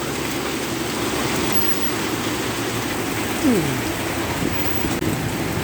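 Heavy rain pours steadily near Nong Salai market in Pak Chong, Thailand, a dense, loud wash of rain with a rushing roar and no let-up, and a brief sweeping sound passes partway through.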